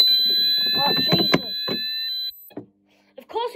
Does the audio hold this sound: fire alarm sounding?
yes